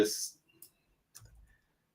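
A few isolated clicks from a computer keyboard come close together in a quiet room, with short silent gaps between them.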